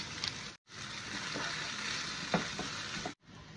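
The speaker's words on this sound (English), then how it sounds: "Simmer lang muna natin yung ating kamatis." Fresh tomatoes with tomato paste and tomato sauce cooking in a pan, a soft steady bubbling sizzle with a few light pops, fairly quiet, briefly cut off near the start and end.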